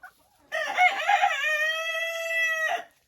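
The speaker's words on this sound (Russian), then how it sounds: "Это петух марана." A Marans rooster crows once, close and loud, in a long harmonic cock-a-doodle-doo with no talk alongside it.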